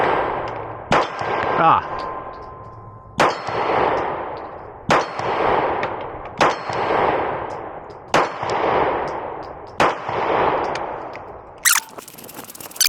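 Glock pistol shots, from a TTI Combat Carry and Combat Master, strike a steel target in about six evenly spaced sharp cracks, each followed by a long metallic ring that fades before the next. A brief harsh burst closes the series, with one short vocal exclamation.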